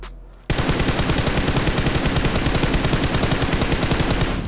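Sustained automatic gunfire in the battle royale game PUBG erupts after a brief quiet moment into a loud, rapid, unbroken burst of shots that continues to the end.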